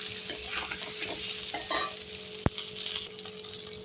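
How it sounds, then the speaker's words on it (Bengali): Egg curry with boiled potato is stirred in a pan over the heat, with ghee and chili paste in it, a low sizzle under soft scraping and one sharp utensil knock against the pan midway; no talking. "নেড়ে চেড়ে আমি এবার ঝোল দিয়ে দেবো"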